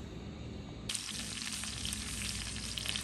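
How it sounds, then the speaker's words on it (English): Crab cakes drop into a hot pan with butter and a loud, steady sizzle of frying takes over, crackling continuously up close. "start frying these crab cakes"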